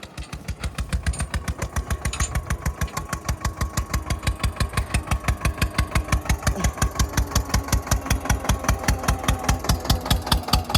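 An Eicher tractor engine running at potato sowing time, a steady rhythmic diesel chug with fast even pulses, close and loud, holding a constant pace throughout.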